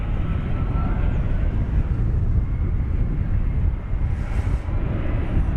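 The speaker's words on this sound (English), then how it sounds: "737-800 is on final approach now." A Boeing 737-800 airliner on final approach at DFW Airport gives off a loud, continuous jet roar that stays steady and close throughout, with outdoor wind noise mixed in.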